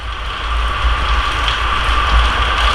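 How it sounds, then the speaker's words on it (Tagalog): Heavy morning rain pours steadily onto surfaces nearby, a dense, continuous hiss with low rumbling patter and no voices. "Malakas po ang ulan ngayong umaga."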